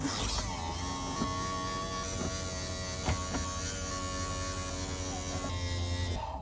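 An RV slide-out motor retracts the slide room after a slide cable replacement, giving a steady close electric whine and hum with a few faint clicks, running continuously before cutting off at the end.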